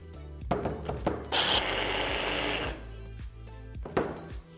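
A food processor whirs in short pulses and one longer burst, coarsely chopping nuts with a rattling grind, close up and without talk.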